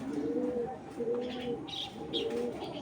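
A Giribaz pigeon coos close by in three soft, rhythmic, throaty rounds, each a low rolling call, with faint background chirps between them.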